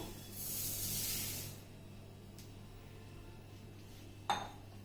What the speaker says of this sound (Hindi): अब हम सबसे पहले इसमें पफ्ड राइस डालेंगे।